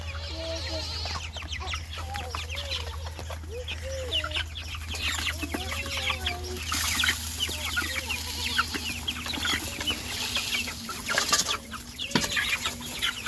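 Meat chickens cluck and murmur continuously at close range, with scattered sharper squawks over a low steady hum.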